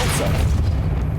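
Depulso force spell cast in Hogwarts Legacy, a dense low boom that stays full and rumbling for about a second, with no talking over it.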